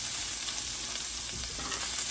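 Mushrooms sauté in a pan with melting butter, a close, continuous sizzle with light stirring scrapes throughout.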